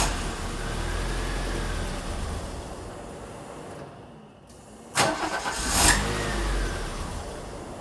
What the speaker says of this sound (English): I'm gonna see if I can get it to start and then keep it running.